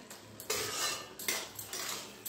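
A utensil stirs rice flour into potato curry in a pan, making several distinct metal scrapes and clanks against the pan. The strokes come in irregular bursts, fairly quiet and close, with no speech.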